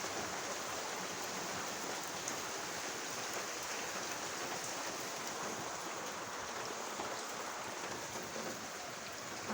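Rain pours steadily during Typhoon Carina, with water dripping inside a flooded house, a dense, even wash of hissing patter that stays faint and unbroken throughout.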